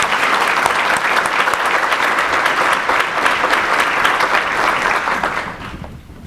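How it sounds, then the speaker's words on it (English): Steady, dense applause from a conference audience welcoming a keynote speaker, sustained loud clapping that fades out near the end. "Let's give her a round of applause."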